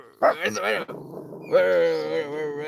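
A puppy whines and growls in drawn-out, expressive vocal bursts, close and loud, with short pauses between them.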